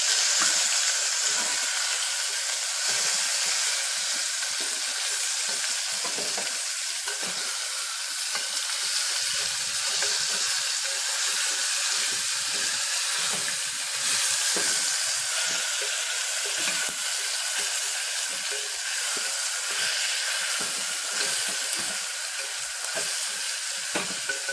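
Drumstick pieces with rock salt and half a spoon of turmeric sizzle steadily in a hot pan for a tamarind pulusu. The frying hiss is loud and continuous, with faint stirring and no talk.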